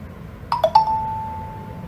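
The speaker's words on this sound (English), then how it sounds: "And there was the login sound." MIUI login chime on a Xiaomi Mi Max 3 phone, three quick bright tones stepping up and ending on a held ringing note, clear and close over faint background hiss.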